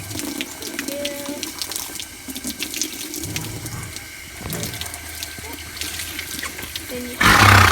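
Water runs steadily from a hose while a hairy horse is washed, a close, continuous splashing hiss that bursts louder at the end.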